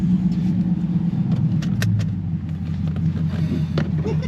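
Dodge 392 V8 with a Spelab active exhaust pulls away on a drive, a steady low rumble of engine and exhaust close by, continuous with no talk.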